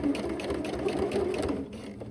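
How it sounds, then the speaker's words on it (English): A sewing machine top-stitches along the waistband of a pair of shorts, a close, rapid mechanical rattle of the needle running in an even, steady stitching rhythm. "Use a guide on your presser foot to keep your stitching even along the waistband"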